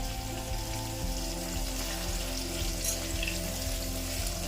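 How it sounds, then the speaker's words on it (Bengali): Potatoes for a mutton curry fry in hot oil in a pan, giving a steady, even crackle and sizzle like light rain, close and constant throughout, with a low background hum and no talking. "মাংসের আলুগুলো একটু ভেজে নিচ্ছি।"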